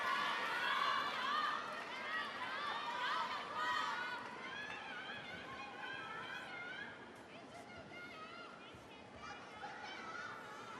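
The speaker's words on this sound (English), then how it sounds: "Be a long wait for this crowd to settle." A table tennis arena crowd murmurs and chatters after a rally in a semi-final match, a dense steady babble of many voices with occasional excited shouts, loud at first and gradually settling.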